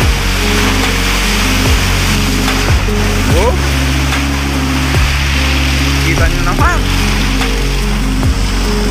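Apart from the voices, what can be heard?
rough sea waves around fishing boats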